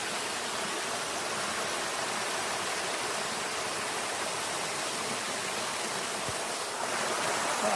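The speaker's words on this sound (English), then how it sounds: "I just wanted to show you the water." A creek on the Sulphur Springs Trail at Paris Mountain rushes over rocks in a constant, dense, close-up roar that holds steady throughout, with no voices.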